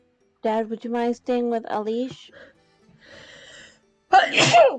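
One sharp, close sneeze bursts out at the end, after a person speaks and brief quiet sounds follow.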